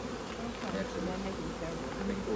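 Steady, dense buzzing of many honey bees close by on hive frames of capped brood, a continuous droning hum with no pauses.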